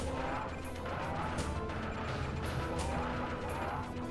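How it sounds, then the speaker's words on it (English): Continuous explosions and crashing impacts from a Sega Saturn shooter game, a dense loud roar of blasts with sharper bursts breaking through, heard without speech. "God, these explosions are so awesome."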